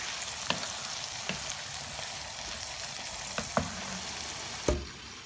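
Vegetables for a vegetarian biryani fry in a pan with a steady, close sizzle, broken by a few sharp clacks of a utensil stirring them.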